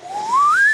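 A voice imitates the whistle an engine crank makes at top dead centre, a single rising whistled tone sliding upward over under a second, loud and close.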